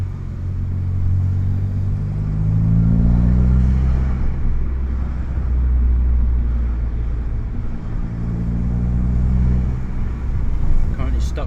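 Vauxhall VXR car driving on a road, heard from inside as a deep engine drone that rises and falls with gear changes and acceleration, with a steady low rumble throughout.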